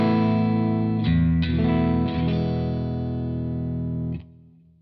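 Electric guitar played through a Boss Katana Artist Gen 3 amplifier with a driven, slightly distorted tone: a sustained chord with a few restrikes, then a ringing decay that fades out, loud and up close.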